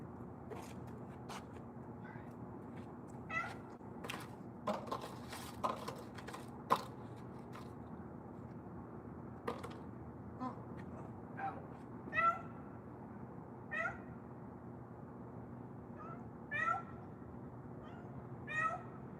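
Several pet cats give a scattering of short, fairly faint meows over about twenty seconds, spaced irregularly against a quiet indoor room hum, with no one speaking.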